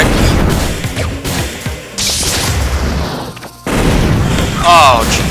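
Loud, chaotic booms and crashing impacts from a turret firing in the Super Smash Bros. Brawl video game, mixed with whooshes and game sound effects in a dense, busy clash.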